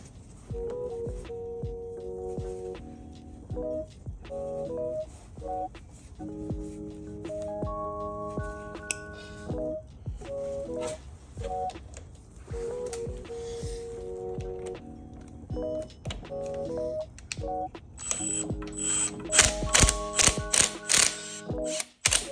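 An impact gun removes a sprocket from a Tru-Turf RS48-11C reel mower. Light mechanical clicks and ratcheting with a tonal hum come first, then a few loud, rapid hammering bursts close by near the end.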